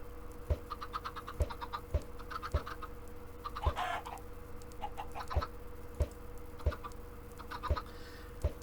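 Minecraft chickens cluck softly in short bursts over a faint, steady hum, with regular low thumps recurring about every half second to second.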